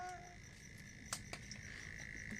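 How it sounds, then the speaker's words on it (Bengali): Crickets chirp steadily in the night air in Jhargram, India, after a day of heavy rain, a thin high trill at moderate distance, with a few faint clicks and no talking. "মনে হচ্ছে না কত রাত হয়ে গেছে ঝিঝি পোকার ডাক চারদিকে"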